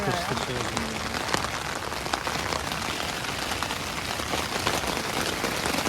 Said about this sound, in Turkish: Oha yağmur yağmur.